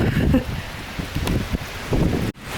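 Rain and wind outdoors in Munich, a steady broadband wash of falling rain with gusts buffeting the microphone, fairly loud and continuous before cutting out abruptly near the end.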